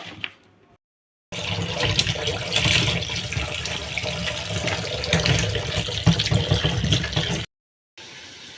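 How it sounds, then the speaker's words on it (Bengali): Water runs steadily from a tap for several seconds with light splashing and rattling, as flat beans are rinsed under the stream. "তো সিমগুলো আমি ভালো করে ধুয়ে নেব।"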